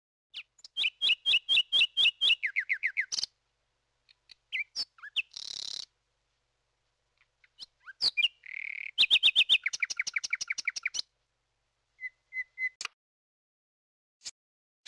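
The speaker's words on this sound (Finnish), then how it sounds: "Etelän satakieli." Thrush nightingale singing alone, a clear, loud series of rapid repeated chirps and trills broken by short pauses, with harsher notes and clicks between phrases and fainter single calls toward the end.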